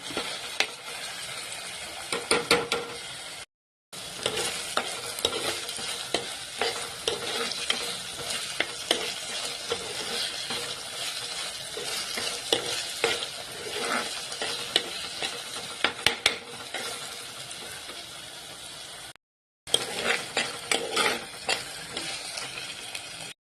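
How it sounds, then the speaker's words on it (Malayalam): Constant sizzle and frying of onions and curry leaves in a pan with steady spoon scraping as a masala base for a village-style pearl spot fish curry is sautéed until brown, dense and close throughout, briefly cut twice. "എല്ലാം കൂടെ ഇവിടെ ഇരുന്ന് നന്നായിട്ടൊന്ന് ബ്രൗൺ കളറാകുന്ന ഒന്ന് വഴന്നു വരാനായിട്ട് നമുക്ക് ഇളക്കി കൊടുക്കാം"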